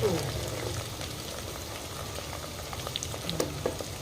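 Green chillies and ginger-garlic paste fry in a pan for a goat head meat curry, making a steady, close crackling sizzle with scattered sharper pops and a faint clink of stirring, with no talk over it.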